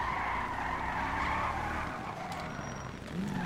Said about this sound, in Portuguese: Se tu segurar shift e o carro derrapa